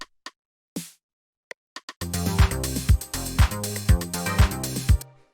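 Percussion drum rack in a classic deep house beat, with a few isolated snare and rim shot hits first, then a full loud groove of punchy low thumps and crisp hits that cuts off abruptly.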